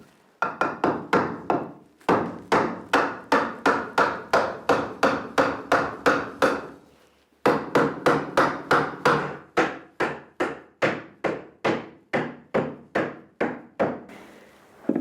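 Hammer tapping a piece of wood into place indoors: a long run of evenly spaced, fairly quick knocks, each ringing briefly, broken by two short pauses before the tapping resumes.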